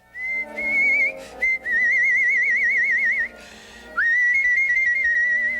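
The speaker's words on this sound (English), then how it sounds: "She'll start whistling upstairs, and I just listen to her" A woman whistles a wavering tune, the notes sliding and trilling in several long phrases separated by brief pauses, close and clear with no one talking.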